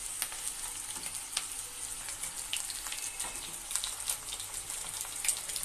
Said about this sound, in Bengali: আমি আদা রসুন বাটাটা দিয়ে দিয়েছি,